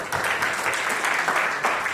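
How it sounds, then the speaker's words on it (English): Audience applause for a lecturer at an international conference, a steady wash of many hands clapping together, fairly loud and sustained for the whole stretch with no voices over it. "A big round of applause for ma'am."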